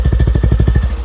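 A 2024 Hero Glamour 125 BS6 motorcycle's exhaust idles close by in a steady, even chug of rapid low pulses at regular intervals, with no speech.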